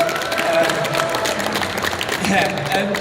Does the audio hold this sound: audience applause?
yes